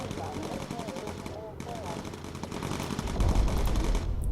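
Sustained rattling machine-gun fire from bomber gunners in the video game Bomber Crew, steady and close, with a low heavy rumble swelling near the end and a voice talking over it.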